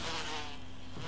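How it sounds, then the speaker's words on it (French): Wasps in the Resident Evil remake video game buzz in a continuous, droning whine, steady and fairly close with no talking over it. "il y a des guêpes"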